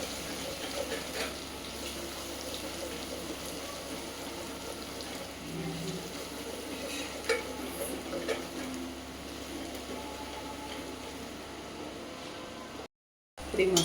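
Ginger-garlic paste and masala fry in a pan, a steady hissing sizzle with occasional soft stirring scrapes, moderately loud and continuous before a brief drop-out near the end.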